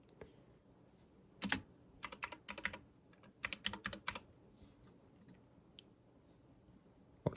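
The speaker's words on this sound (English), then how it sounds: "let me just type that" Bursts of computer keyboard typing, quick clusters of key clicks separated by pauses, close and fairly crisp, with no voices over them.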